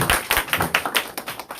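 A small audience at a Korean lecture-hall academy event claps in a sparse, uneven patter of distinct hand claps, close and fairly loud, with no talking over it.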